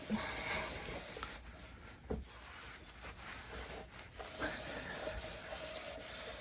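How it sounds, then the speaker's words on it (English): A clean microfiber cloth buffs the bodywork of a BMW R1200 GSA motorcycle: soft, faint rubbing strokes with a few brief louder swipes, close by and without talk. "Then I just get a clean microfiber, just give it a little buff."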